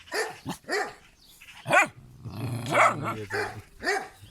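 A dog barks repeatedly in short, sharp bursts, close and loud, with a few growly yips mixed in between the barks.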